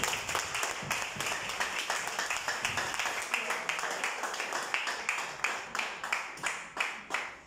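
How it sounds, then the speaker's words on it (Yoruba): Church congregation clapping hands in praise of Jesus during a Yoruba sermon, a steady rhythmic run of crisp claps carrying throughout with voices mixed in underneath. "Ẹ pàtẹ́wọ́ fún Jésù."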